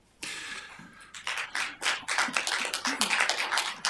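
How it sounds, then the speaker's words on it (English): Applause from people gathered at a Fargo city commission meeting, a burst of dense clapping starting abruptly and continuing steadily, fairly close and loud, with no talk over it. "We don't usually applaud at this meeting."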